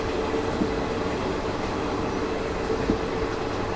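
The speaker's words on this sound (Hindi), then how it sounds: "बड़ी शानदार ट्रेन है, ये भी देखी हुई है।" Garib Rath Express passenger train running on rails, a continuous steady rumble of wheels and carriages with a couple of faint metallic clicks, heard close by throughout.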